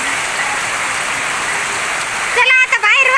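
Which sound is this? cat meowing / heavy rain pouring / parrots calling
heavy rain pouring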